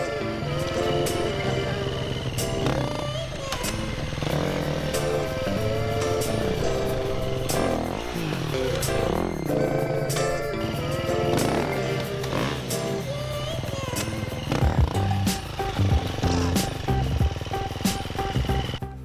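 An enduro dirt bike makes pivot turns over log obstacles, its engine revving up and down in uneven bursts close by, with clatters and thumps and a rider speaking at times.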